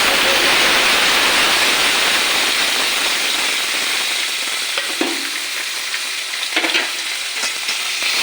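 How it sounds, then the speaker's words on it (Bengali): Chopped onions fry in oil in a pan, making a loud, broad, continuous sizzle that eases a little toward the end, with a few soft clinks of a utensil. "দেখো আমার পেঁয়াজটা ভাজা ভাজা হয়ে গেছে"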